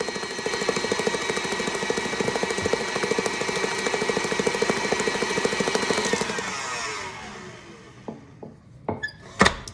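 A kitchen stand mixer with a paddle attachment runs on high, beating sugar cookie dough with a loud, steady mechanical whir. The motor then stops, and a few knocks and clatters follow.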